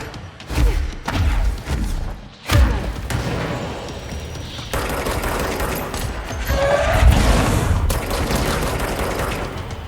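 A heavy ground-pound impact on a bomb-carrying enemy in the video game Control, a sharp thud with a blast burst, sitting amid continuous dense combat noise of booms and rumbling effects.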